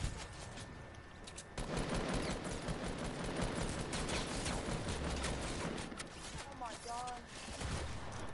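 Fortnite gunfire shot through a wall comes as dense, rapid bursts of automatic shots, harsh and sustained at moderate volume within busy game noise.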